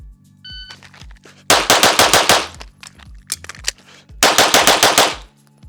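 Pistol fired in rapid strings during a 36-round shooting drill, two long dense bursts of sharp close shots separated by a pause with a few isolated shots and mechanical clicks.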